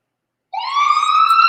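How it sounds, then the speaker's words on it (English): A loud, close siren wails upward and holds a steady rising tone after a moment of silence, alone with no voices. "Let's get rid of that siren."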